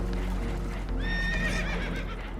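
Spooked horses whinny in Red Dead Redemption 2 aboard a damaged boat taking on water, a clear high neigh rising over a steady low rumble of rushing water and engine-like noise.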